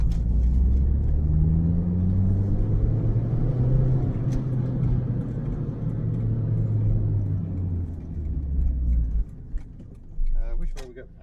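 A 4AGE-engined 1980s Toyota Corolla FX-GT hot hatch accelerates, its engine note rising steadily in pitch from inside the cabin under a low road rumble, then easing off near the end.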